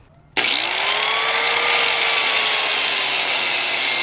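A power tool starts abruptly and cuts steel pipe for a custom motorcycle or dirt bike frame, producing a loud, steady, high-pitched whine that holds for several seconds after a quiet start, with no talk.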